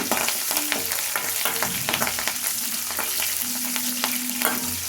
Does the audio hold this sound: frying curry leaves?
yes